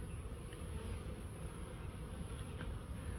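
Honeybees buzzing at an open hive, a dense continuous hum that holds steady and fairly faint throughout, with no breaks.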